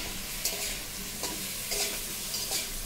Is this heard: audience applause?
no